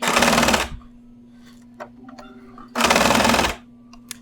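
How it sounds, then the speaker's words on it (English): A sewing machine stitches a flat felled seam on bug net fabric in two loud bursts, the first brief and the second lasting close to a second, separated by a quiet gap with light handling clicks. "I've begun doing the flat felled seam."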